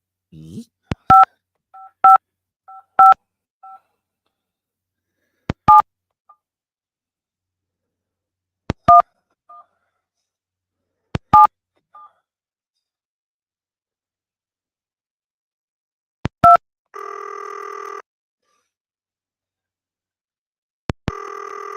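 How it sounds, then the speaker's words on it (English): Touch-tone DTMF dialing on a telephone while calling a number from the game Cosmic Osmo: a sequence of short, sharp keypad beeps in uneven clusters, then brief buzzing signal tones, loud and clear against silence. "I'm going to try one of these phone numbers from Cosmic Osmo and just see what it does"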